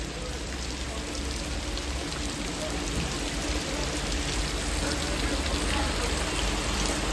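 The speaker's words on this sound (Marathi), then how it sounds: "हे बघा, इथेच नदी आहे." A river flows close beside a village house, a dense steady rushing wash that stays loud and even throughout.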